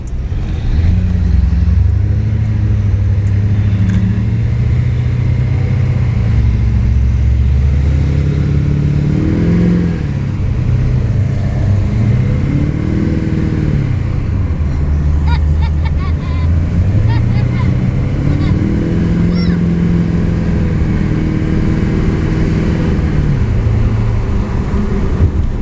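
Pickup truck with a 6-speed Cummins diesel accelerating at full throttle, a loud low engine drone that climbs in pitch through repeated gear pulls, with someone talking over part of it.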